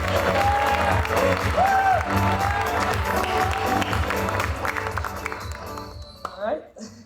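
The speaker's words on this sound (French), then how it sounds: "Commencez tout de suite à l'applaudir." Audience at a comedy show applauding and cheering as a young comedian is introduced, a dense steady roar of clapping and voices that thins out toward the end.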